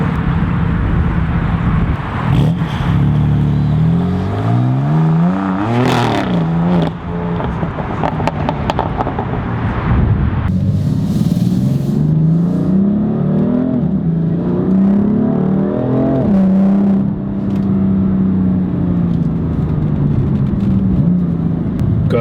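BMW M4 Competition LCI fitted with M Performance parts and carbon fiber revs loudly up close, its engine note climbing and falling through repeated throttle blips with a deep, rasping tone.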